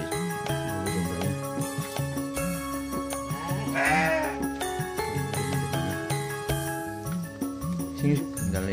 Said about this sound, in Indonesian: Domba itu.